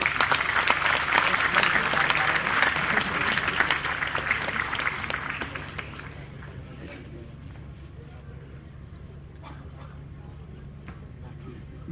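Audience applause at a university convocation ceremony: dense clapping for about five seconds that fades out, leaving a low background hum and a few scattered claps.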